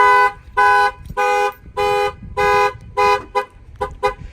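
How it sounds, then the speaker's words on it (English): A Clifford 3105 alarm on a Ford Transit van blares in loud, repeated honking blasts, evenly spaced at first, then breaking into shorter, quicker chirps. "This alarm is the Clifford 3105."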